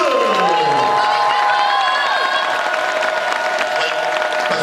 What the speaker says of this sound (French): Je voudrais, s'il vous plaît, qu'on applaudisse bien fort Epic et Japan Expo